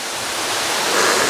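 Jaein Falls in Yeoncheon, South Korea, running low on water after a June drought, gives a steady broadband rush of falling water that swells slightly toward the end, with no voices.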